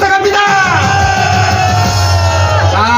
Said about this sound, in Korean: 다시 한번 격려 박수 부탁합니다